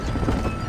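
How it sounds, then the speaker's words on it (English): A brief, loud burst of pounding horse hooves from a horse and wagon race in the Red Dead Redemption western game, dense and continuous. "Oh, they're horse and wagon races."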